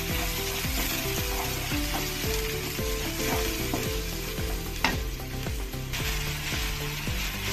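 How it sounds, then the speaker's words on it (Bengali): Onion paste frying in a pan gives a dense, continuous sizzle with a regular rhythmic scrape of a spatula pushing it around, loud and close, with no one speaking. "এবার দিয়ে দেবো পেঁয়াজ পেস্ট।"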